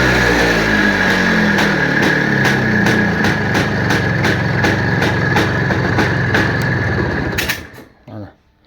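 An Izh Planeta 5 motorcycle engine runs loud and steady at a fast idle for about seven seconds, its rhythmic pulse filling the recording, then cuts out abruptly and leaves a few faint clunks.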